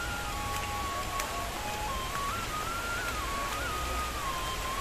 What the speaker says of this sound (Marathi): आता पाऊस पण पडायला सुरुवात झालेली आहे.